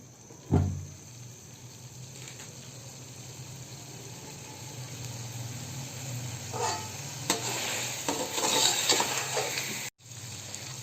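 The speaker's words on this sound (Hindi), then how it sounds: "अब हम इसे कीमे को अच्छे से भूनेंगे।" Minced meat (keema) is stirred and fried in a pan, giving a low steady sizzle with scattered scraping stirs that grow busier toward the end, close up, no voices.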